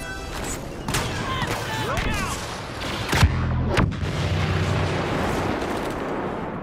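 Booming explosions and gunfire crackle in a busy Star Wars Battlefront battle, with one sharp, heavy blast standing out amid the ongoing clatter.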